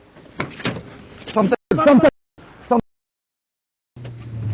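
Raised, agitated voices talk over a car interior, with a sharp, loud thump partway through, like a car door slamming shut, followed by brief silence and an engine hum.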